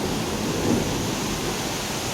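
Heavy rain pours at night during a thunderstorm with lightning, a dense, steady roar of rainfall with a faint low rumble swelling briefly, and no one talking.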